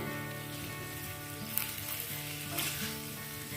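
Potatoes being stirred into a sizzling spice paste with tomato paste in a pan for dry aloo dum, a steady frying hiss with occasional scraping stir strokes, close and continuous.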